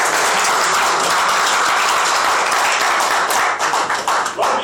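After a magic trick at a live show, the audience gives loud, dense applause, a continuous roar of clapping that breaks into more distinct scattered claps as it winds down.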